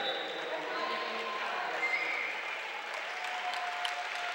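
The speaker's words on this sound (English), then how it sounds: "the crowd gives Lenny Patterson a round of applause" Crowd at a Clarion v. Cal U men's college basketball game applauds steadily as Lenny Patterson checks out and heads to the bench, a broad sustained clapping wash with a commentator talking over it.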